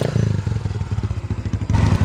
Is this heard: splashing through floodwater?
no